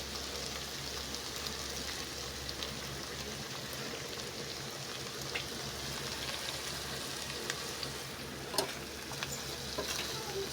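Pinakbet vegetables with bagoong alamang stir-fry in a home kitchen pan, a steady low sizzle running throughout with a few soft utensil scrapes and clicks near the end, no one talking.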